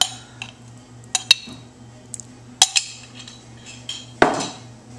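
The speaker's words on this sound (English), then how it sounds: "I'm going to take a nice healthy spoonful of this artichoke antipasto" Artichoke antipasto spooned from a jar into a salad bowl: a scattered series of sharp metallic clinks and scrapes from a spoon against glass and bowl, close by, with quiet pauses between.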